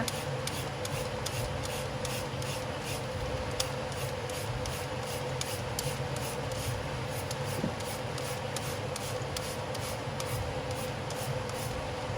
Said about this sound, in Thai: จากนั้นก็ใช้ที่ขูดมะละกอนะขูดเป็นเส้นๆนะคะ